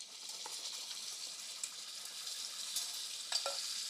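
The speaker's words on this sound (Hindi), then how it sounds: "इसी में थोड़ा जीरा इसी तेल में भुन जाएगा" Cumin seeds fry in a little hot oil, a soft steady sizzle with faint crackles and a few light clinks near the end.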